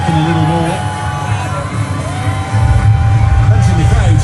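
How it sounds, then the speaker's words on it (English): Football fans at Toronto's FIFA World Cup Fan Fest cheer and shout as a crowd, a loud, continuous roar of voices and whoops that swells toward the end, with a commentator talking over it. "Fans in the crowd doing their bit for sure."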